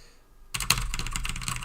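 Fast typing on a computer keyboard, a quick, steady run of close clicking keystrokes that starts abruptly after a brief quiet moment.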